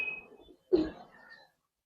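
Giribaz pigeons, colored and silver birds, give a single soft coo at close range, rising briefly then fading, with faint background murmur before it.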